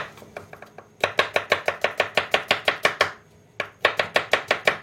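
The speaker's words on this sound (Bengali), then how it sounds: "পরে আমরা পেঁয়াজটা কেটে নিই" A knife chopping onion on a board: a few light taps, then a fast even run of crisp cuts, a short pause, and another quick rhythmic burst, close and clear with no talk.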